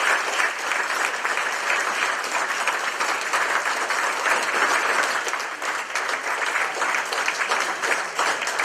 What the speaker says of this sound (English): I think it's time to have unlimited amount of applause for all of these candidates.